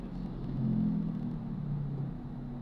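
Steady engine drone of a roughly 700cc motorcycle on a Manila-area road, a low rumbling hum that swells slightly mid-clip as it revs, close and continuous with no talk.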